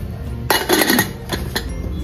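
A pressure cooker lid is set in place over corn inside the cooker, giving a loud metallic clank followed by a few lighter clinks and scrapes, close by with no talk.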